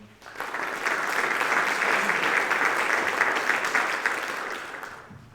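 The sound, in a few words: round of applause for the students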